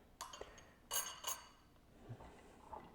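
Ice cubes, cloudy ones, clink against a glass holding a Havana espresso drink: a quick single clink, then two brighter glassy knocks close together, fairly close and alone with soft room noise.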